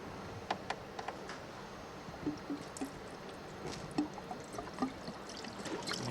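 Diesel poured into a car's fuel filter housing, a soft steady trickle with faint drips and small splashes, quiet and close.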